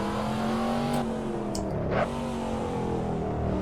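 A Corvette Stingray revs loudly in the racing game Assetto Corsa, a steady engine drone that rises in pitch around the midpoint and then settles into a sustained, harmonic-rich roar.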